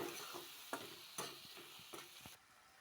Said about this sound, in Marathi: आता त्याला बी मिक्स करायचं या मसाल्यात